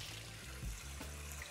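Hot water runs from a kitchen tap to wash rice, a faint, steady splashing stream with a couple of brief louder gurgles, no speech.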